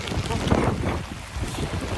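Storm wind gusts up to 34 mph buffet a sailboat in heavy rain, a steady roaring rush with microphone rumble and surging low gusts, loud and close, with faint talk mixed in.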